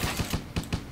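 Turrets fire in a tower defence game: a rapid rattle of short, close shots, about a dozen in a second, sounding steady and mechanical.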